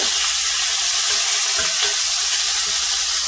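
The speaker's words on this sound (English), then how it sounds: "And I'm going to put in my bacon." Bacon sizzling in a pan on low heat after steaks were cooked, a loud continuous hiss with faint crackles and a few soft knocks, close and steady throughout.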